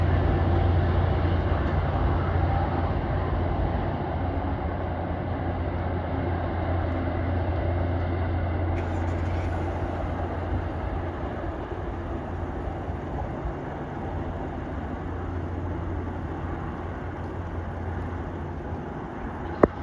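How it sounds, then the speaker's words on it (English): MBTA commuter train 207, bound for Bradford and Haverhill, rolls into Andover station, a continuous deep engine drone and low hum with steady rail rumble that carries on for the whole span and slowly eases off toward the end, with no talking. "we've got train 207 that is heading to Bradford and Haverhill, about to arrive here at the station"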